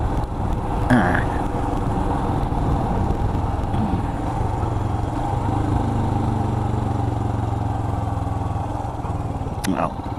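A Royal Enfield Himalayan motorcycle engine thrums steadily while riding, a low continuous single-cylinder drone with wind rush, close and constant throughout, without talk.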